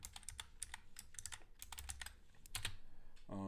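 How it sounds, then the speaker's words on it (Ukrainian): Rapid typing on a computer keyboard, with quick bursts of clicky keystrokes in an irregular rhythm, recorded close up with no talking. "не попадаю по клавішам, тому що ще не звик до клавіатури"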